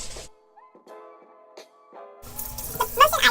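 Water from a bathroom tap splashes as makeup brushes are rinsed under it, coming in loud and close after a quiet stretch with faint small clicks, with no one speaking.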